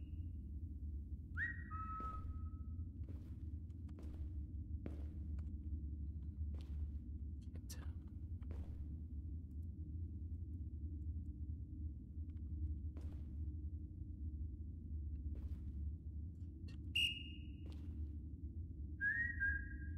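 Short whistled tones, a few rising and falling phrases spaced across the stretch, sound faint over a steady low rumble in a VR Chat horror game session.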